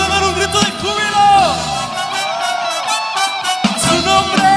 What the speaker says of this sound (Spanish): ¿Cuántos pueden dar un grito de júbilo?